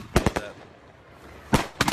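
Sharp fireworks bangs on the Fourth of July, played back from a video: a quick burst of three cracks, a short pause, then three more loud pops.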